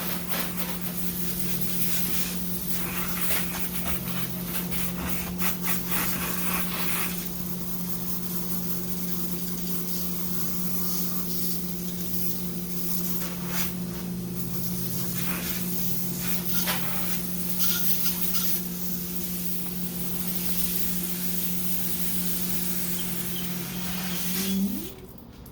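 Water spray rinsing tire cleaner off car wheels runs as a steady, loud hiss throughout, with a constant hum of a pump or engine underneath and a brief change at the very end.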